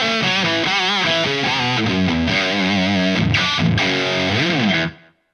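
Distorted electric guitar played through a pedal's filter, the tone swept toward a raspy, fizzy edge; loud sustained chords and bends ring continuously with no talk, then stop abruptly near the end.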